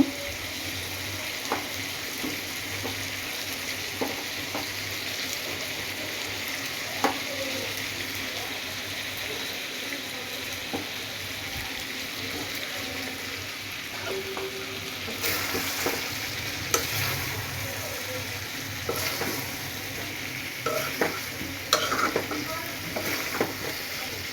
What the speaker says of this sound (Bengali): এখন আলু দিয়ে খসিয়ে নেব